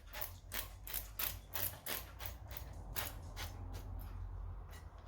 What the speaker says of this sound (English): I just spray it lightly with some oil